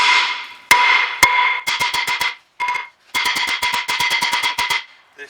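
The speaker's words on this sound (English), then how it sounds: "be very careful if you want to hit the disc, because what happens is the disc is rusty and the bits fly back" Loud, sharp metallic hammer blows strike a rusty front brake disc on a 2011 Ford Mondeo Mk4, landing first as two separate hits and then in rapid bursts of rhythmic strikes with short pauses between them.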